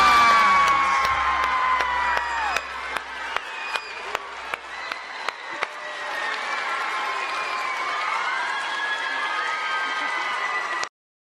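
A crowd at a NASA event announcing the Mars 2020 rover name, Perseverance, bursts into loud applause with cheers, whoops and children shouting, sharp claps standing out early and the ovation holding steady throughout.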